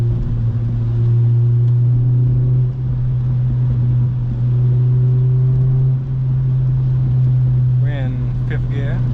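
Engine of an 8th-generation Honda Civic Si with VTEC, heard from inside while driving in the rain: a steady loud low drone throughout, rising slightly near the end, with faint chirpy squeaks at the close.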